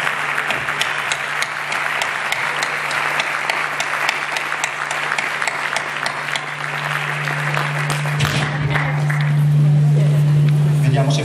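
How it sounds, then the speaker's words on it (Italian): An audience at an Italian book presentation about the life of Don Giussani claps for two speakers, sustained dense applause filling the room, growing slightly louder near the end, with a voice talking briefly over it. "adesso un applausone ai due relatori"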